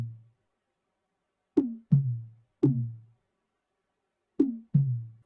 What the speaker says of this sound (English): I added this weird 808 kind of sound.